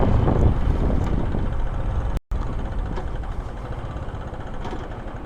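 An old Royal Enfield Himalayan motorcycle stands idling at the roadside with a steady, close, low chugging drone that cuts out for a moment partway through and then resumes, with no talking.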